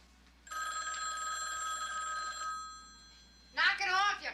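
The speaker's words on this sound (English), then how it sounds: "Don't answer the phone, Edson." An old-style telephone bell rings in a steady two-second burst, close and clear, followed by someone speaking loudly.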